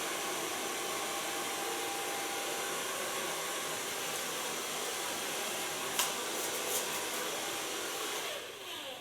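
A hair dryer roars steadily and closely while short platinum blonde hair is blow-dried, with a few faint clicks near the end as the airflow eases off.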